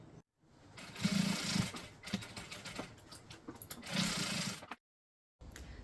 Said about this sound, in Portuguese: e agora pelo lado da manta passa uma costura